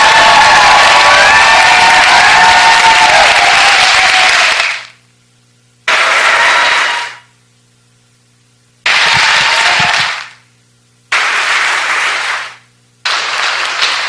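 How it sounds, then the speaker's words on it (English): Applause from a crowd at a city Planning and Land Use Management Committee hearing comes in loud, dense bursts, a long opening wave followed by several shorter rounds cut off abruptly with silence between. "That was louder than the applause that Mr. Koretz got"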